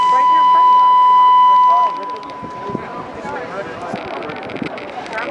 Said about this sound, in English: The following is a test of the chemical alarm.